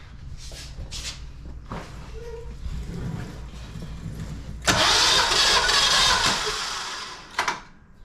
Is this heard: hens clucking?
no